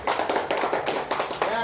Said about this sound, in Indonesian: Oke, kita kasih aplaus dulu untuk penyampaian kelompok 2.